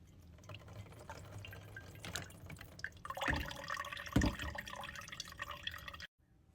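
Cucumber juice drips and trickles through a medium kitchen strainer, a run of small irregular liquid patters that swell into a couple of louder splashy bursts near the middle before stopping abruptly.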